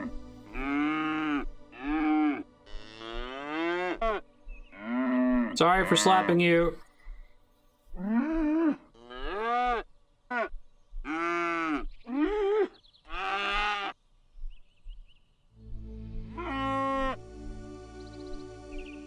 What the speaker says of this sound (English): Come on, cow.